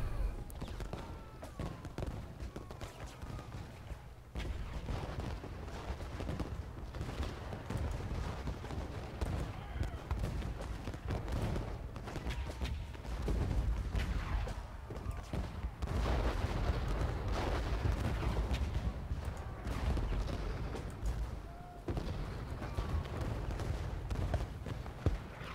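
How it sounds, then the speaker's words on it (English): Battle in the Ultimate General Gettysburg video game, with continuous rolling artillery booms and massed gunfire crackling at a distance, a dense steady din throughout. "artillery battery's holding out well under all this fire"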